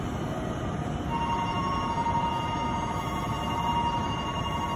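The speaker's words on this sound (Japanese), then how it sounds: "3番線から電車が発車します。" A Meitetsu train departs the station with a continuous rolling rumble of wheels on rail, a faint steady tone and a thin whine rising partway through. It is moderately distant and there is no speech.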